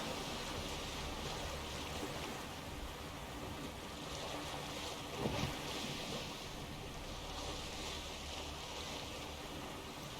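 A boat moves across the water in The Witcher 3, giving a steady broad rush of waves and wind that stays constant throughout, with no voices.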